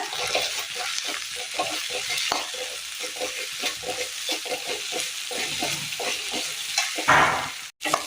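Food roasting in a pan with salt hisses and sizzles loudly while a spoon scrapes and stirs in a steady rhythm, ending with a brief louder splash of sizzle.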